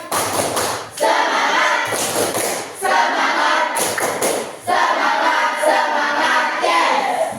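A classroom group performs a rhythmic spirit clap in loud, close bursts of hand claps with short pauses between them, forming a patterned cheer with a few thumps mixed in.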